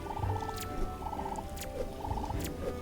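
A game bird in RWBY Arrowfell gobbles in short rapid bursts, three repeated warbling calls at a steady interval over quiet game ambience and scattered faint clicks.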